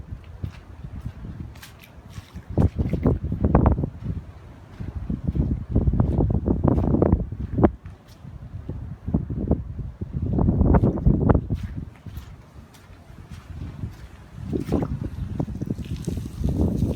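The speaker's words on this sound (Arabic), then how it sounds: "الهوا عمال يزيح المية." Strong storm wind during heavy rain pushes water across wet ground, heard as loud, surging rumbling gusts of wind noise that rise and fall repeatedly, with no talking.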